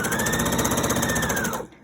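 A sewing machine stitches fabric in a fast, loud, rapid mechanical chatter that runs for about a second and a half, then cuts off.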